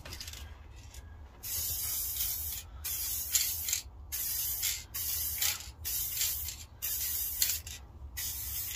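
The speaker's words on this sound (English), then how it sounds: "So I've decided to varnish this." Spray varnish hissing from an aerosol can onto a homemade slingshot, in a run of repeated short bursts with brief pauses between them, close and steady.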